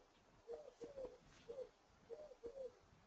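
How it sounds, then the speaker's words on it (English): A dove coos softly in the background, repeating a low, rounded phrase about five times in an even rhythm against a quiet room. "Who's got a dove singing in the background?"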